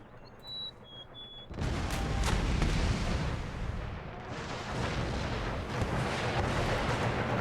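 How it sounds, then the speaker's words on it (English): Cannon artillery fire in the battle game Empire Total War, a sudden heavy blast followed by sustained rumbling booms and crackling volleys, loud and continuous after a brief quieter opening with faint tones. "Right, cannons."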